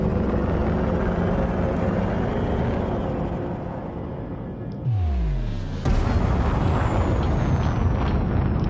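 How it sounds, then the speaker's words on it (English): Hydraulic whine and mechanical clunks of a Python ship's landing gear retracting in Elite Dangerous, a descending tone sweeping down into a heavy thud around the middle, set against a steady engine rumble that swells louder afterward. "Landing gear retracted."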